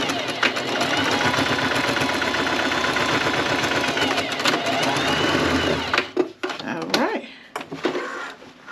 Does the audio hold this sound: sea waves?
no